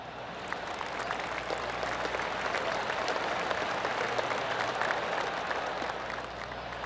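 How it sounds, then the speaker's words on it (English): Golf gallery applause on the course in the video game PGA TOUR 2K25, a steady spread of polite clapping from a crowd heard at moderate distance, continuous throughout. "I can hear the golf claps around the course."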